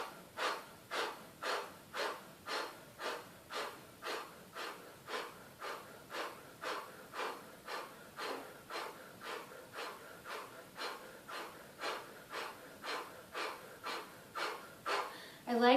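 Rhythmic breathing during a kriya yoga exercise comes as a long, even series of forceful, close breaths, roughly two per second, steady throughout with no talking.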